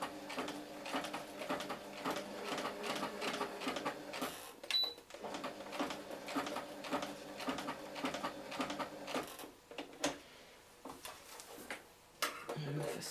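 A sewing machine stitches flag poi fabric in a fast, uneven patter of needle strokes with brief pauses between runs. A person speaks quietly over the machine.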